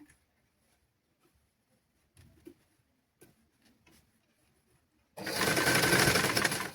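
A sewing machine starts up after a few quiet handling taps and stitches fabric in a steady, loud, fast mechanical whir during a basic tailoring lesson.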